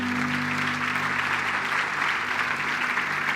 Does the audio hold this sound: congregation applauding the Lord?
yes